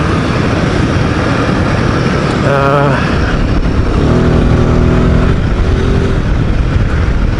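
A Royal Enfield Himalayan 450 motorcycle, a new 450 off-road capable bike, pulls away and accelerates, its engine note rising in steady harmonic climbs over constant loud wind and road roar.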